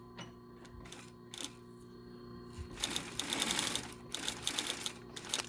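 An industrial sewing machine stitches a shoulder strap near its hardware, with short bursts of rapid mechanical stitching, brief pauses, then a longer continuous run, all close and clear.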